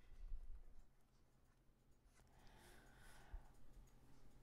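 A pen writes a word by hand on paper, faint soft scratching strokes in a quiet room, with a brief louder stroke in the middle.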